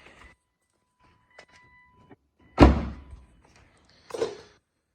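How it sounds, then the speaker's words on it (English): Door on a 1999 Estoril Blue BMW Z3 M being shut, a single solid thunk after faint small clicks and rustles, followed by a softer second knock in an otherwise quiet space. "Shut this door."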